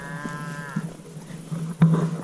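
Cattle moo in the mountain pastures of the Picos de Europa, one drawn-out low call followed by shorter lowing sounds and a sharp noise nearby, with no talking.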